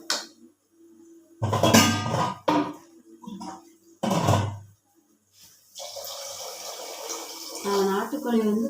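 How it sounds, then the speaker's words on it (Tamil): Water poured from a mixer jar into a cooking pot in a home kitchen, a few short splashing bursts and a longer trickling pour, mingled with nearby speech. "மிக்சி வந்து மிக்சி ஜார் வந்து கழுவிலாம் ஊற்றிருக்கிறேன்."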